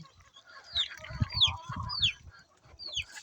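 Young chicks and chickens in a fenced pen: repeated high, falling peeps ring out over low, soft clucking and shuffling, fairly close, with no talk.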